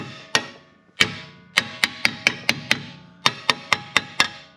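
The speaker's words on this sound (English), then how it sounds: "So now you just take a hammer" A hammer strikes a metal trailing arm on a Honda Odyssey over and over, sharp ringing blows at an uneven pace with short pauses between bursts, close and loud.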